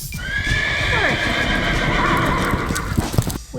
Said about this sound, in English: We have a brown horse.